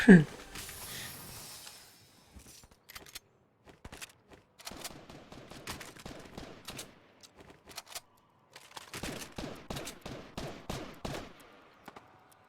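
Bursts of gunfire in Fortnite aimed at a house, rapid clustered volleys separated by short pauses, moderately loud, with a louder hit at the very start.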